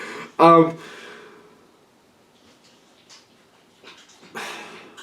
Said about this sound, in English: Sorry if you can hear my whiny dog in the background.